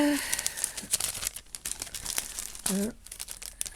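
A small plastic sleeve crinkles and rustles up close as an item is slipped back inside it, crackling in uneven bursts, with a voice briefly heard at the start and again near the end.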